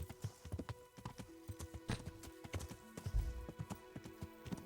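A horse's hooves clop at a steady walking rhythm in the medieval game Kingdom Come: Deliverance, close and fairly faint, with light creaks and jingles of tack.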